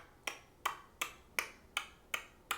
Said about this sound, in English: You can make a ticking sound